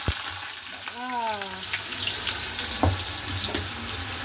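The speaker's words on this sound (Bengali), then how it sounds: "তো এখানে তেল গরম হয়ে এসছে, দিয়ে দেবো আলুগুলো" Potatoes drop into hot oil and set off a close sizzle that keeps crackling steadily, with a short whistling tone and a few clicks from the pan over the frying.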